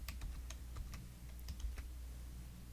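Computer keyboard typing on a desk, a quick run of distinct key clicks spread over a few seconds, fairly close and alone against a low steady background hum.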